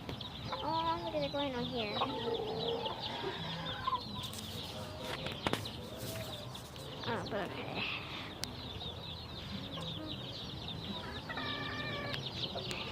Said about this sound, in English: Oh, there's a chicken right there.